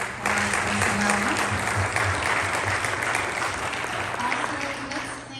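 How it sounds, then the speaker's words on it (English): An audience at a community political forum applauds the candidates, a steady wash of clapping running the whole stretch with a low hum beneath and some voices mixed in, fading slightly toward the end. "let's give our candidates a big round of applause as well"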